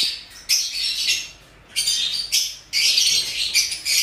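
A hen squawks in an aviary, giving loud, harsh calls in three or four sustained bursts separated by short pauses, close to the microphone.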